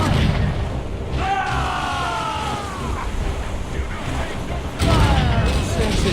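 Ship cannon volleys in the naval video game Assassin's Creed Rogue: deep booming blasts over wind and surging waves, with whistling projectiles streaking by and a heavier volley hitting near the end.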